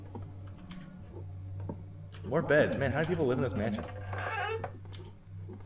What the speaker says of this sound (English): I'm sorry if you can hear my keyboard. It is mechanical.